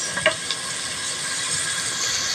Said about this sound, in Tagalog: So igigisa na natin si bawang at si sibuyas.